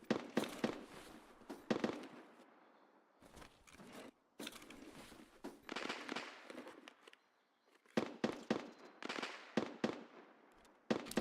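Gunfire in the video game Escape from Tarkov, heard as sharp bursts and single shots in irregular clusters separated by short quiet gaps, moderately distant and fairly faint.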